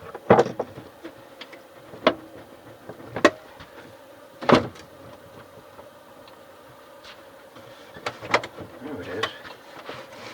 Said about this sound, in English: Just the cassette door had to be opened.